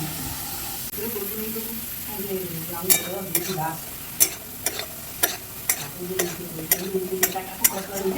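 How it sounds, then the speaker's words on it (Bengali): Diced potatoes sizzle in hot oil, with repeated sharp clatters of a utensil stirring in the pan, fairly close and steady throughout. "আলুগুলো এবার আমি তেলে দিয়ে দিচ্ছি"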